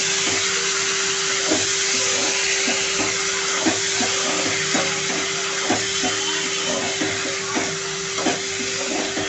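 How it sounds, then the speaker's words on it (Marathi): Cowpea pods (chavli) sauté in a pan with a steady loud sizzle and hiss, broken by regular scraping knocks of stirring throughout. "आता आपण हे छानपैकी परतून घेऊया।"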